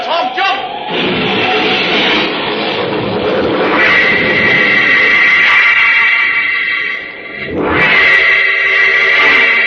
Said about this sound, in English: We're skidding. The brakes won't hold. We're going over the cliff.